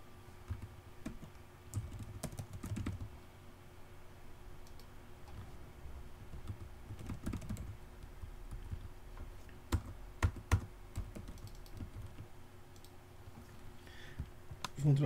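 Quiet, irregular clicking of keys on a computer keyboard as a password is typed, soft taps close by over low room hum with no talk.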